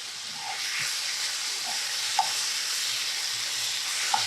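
Fish fillets frying in a pan give a steady, moderately loud sizzle and hiss, with a few small pops and spatters along the way and no talking.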